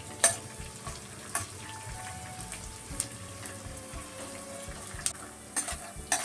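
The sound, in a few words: edible gum (gond) frying in a pan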